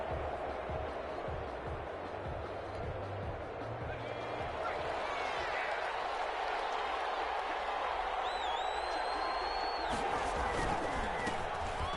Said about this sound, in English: This crowd is ready as their guys get set to match up between the Los Angeles Chargers and the Las Vegas Raiders.